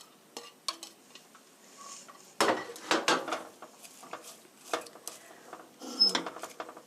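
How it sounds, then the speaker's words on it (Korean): Garlic, onion and cabbage being stir-fried in a pan for cabbage spaghetti, with scattered scraping and clattering utensil strokes against the pan over a soft sizzle, loudest in a few bursts midway. "8 minute 8분간 볶아주세요. 8 minutes stir fry."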